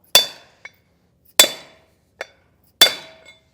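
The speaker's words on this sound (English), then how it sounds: "we're just going to hammer that until it" Three loud, sharp metallic hammer blows drive a Timken L44610 bearing race into a trailer hub, evenly spaced with ringing decay, each followed by a small rebound tap, no talk.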